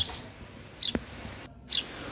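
House sparrow chicks give a few brief, faint chirps while being hand-fed, with quiet background noise between them.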